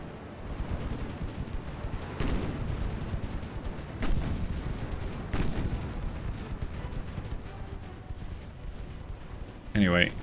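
A 2-inch naval gun firing repeatedly in Ultimate Admiral Dreadnoughts, a string of sharp muffled reports spaced a second or two apart over a dense battle din, with a louder burst near the end and a voice talking throughout.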